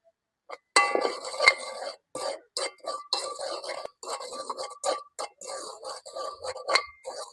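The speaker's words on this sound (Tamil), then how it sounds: "அடுத்ததாக ரவையை வறுத்து கொள்வோம்." Semolina being roasted in a pan sounds like a run of close metallic clinks and scrapes from a spoon stirring against the pan, in short uneven bursts with brief pauses between.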